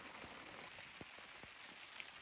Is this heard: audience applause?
no